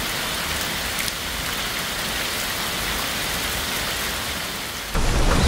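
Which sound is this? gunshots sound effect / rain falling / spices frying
rain falling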